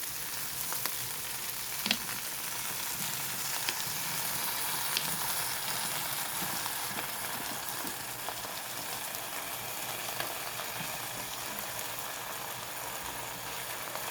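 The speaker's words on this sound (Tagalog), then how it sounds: "Haluin ko muna bago lagyan ng suka." Lechon paksiw simmers in its sauce in a pan as it is stirred, giving a steady close sizzle and bubbling hiss with faint scraping, alone and without talk.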